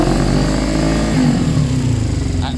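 A Suzuki GS500 motorcycle with a slip-on exhaust idles close and loud, its engine note holding at a steady, partly opened throttle. Held briefly without talk.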